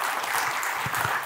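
A church congregation applauds during a Spanish-language sermon, a dense steady wash of clapping that fills the whole short moment without a break.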